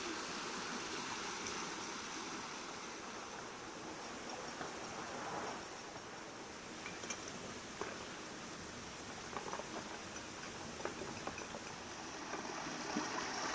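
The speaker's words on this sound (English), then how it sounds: "Which means I'm gonna have to use a load of water filling the lock back up." Rushing water pours continuously with a broad, steady roar as it fills a narrowboat canal lock, churning into the channel, with occasional faint clicks.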